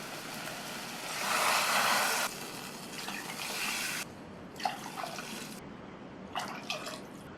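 Water poured into a cooking pot for making samba wheat rava kichadi, a steady splashing pour that swells loud, then breaks into shorter trickles and drips near the microphone, with no talking.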